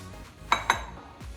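Two sharp clinks of a utensil against a mixing bowl while a raw-vegetable chickpea salad is stirred, close and distinct, a short pause between them, then quiet.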